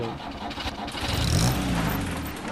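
An old truck engine in the point-and-click video game Paradise, a steady mid-pitched rumble that swells slightly in the middle as if revving, heard alone at a moderate level.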